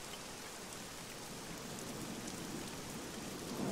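Heavy rain pours steadily in the survival video game Scum, a dense even hiss of downpour that holds at a constant level throughout, with no voices.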